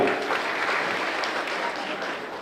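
Applause from a crowd at a public event launching a state welfare scheme in Mohopada, clapping in congratulation of the government; steady, dense clapping holds at moderate level throughout.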